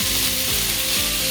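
Onions frying in a pan for fish cutlets, a steady, fairly loud sizzle with a few soft stirring scrapes, no voices.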